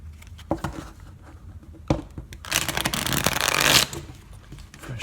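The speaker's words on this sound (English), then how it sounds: "deck of cards, a little bit harder to shuffle." A fresh deck of playing cards is shuffled at a tabletop game session, with a few quick riffle snaps and then a longer, loud fluttering burst close by.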